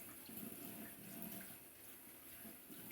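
Water running steadily from a tap while more is added to shaving lather, a continuous close splashing hiss with no break.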